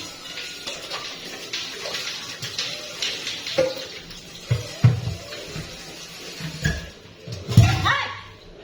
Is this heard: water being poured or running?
yes